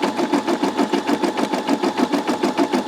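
A Brother SE625 embroidery machine stitching a dense satin-stitch fill, a fast, even mechanical chatter of repeated needle strokes running steadily and close by.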